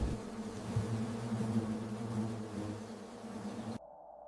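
Giant honey bees fly out from their forest nests, making a steady, dense buzzing drone that fills the air and stays even throughout, then cuts off abruptly near the end.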